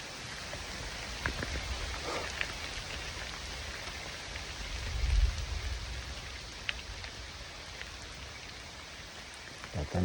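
Steady rain patters down outdoors on an archery elk hunt in Utah, a dense continuous hiss with a low rumble swelling near the middle and a few close drops or rustles near the end.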